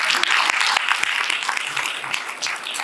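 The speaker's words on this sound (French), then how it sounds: "applaudissez-le" Sustained audience applause at the inauguration of a French narrative medicine congress in Limoges, a dense steady roar of many hands that stays loud throughout with no voices over it.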